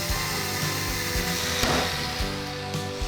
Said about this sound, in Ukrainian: за допомогою болгарки підганяємо пруток до потрібної довжини